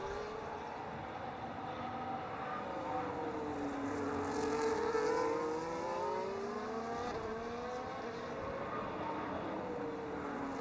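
F1 race car engine running through the final corners of a lap in the video game F1 25, a continuous high-pitched whine rising and falling with gear changes, steady and fairly loud with no talking.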